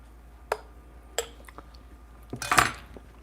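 A spoon clinks against a Loveramics ceramic cup while stirring a caramel coffee drink made with a Breville Barista Pro, giving a few separate taps followed by a brief louder burst of scraping and clinking, close and quiet.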